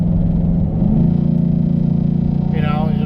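Ford F-150 pickup fitted with a Roush cold air intake: a steady, loud engine drone heard from inside the cab while accelerating, with a deep, even hum that rises slightly in pitch partway through.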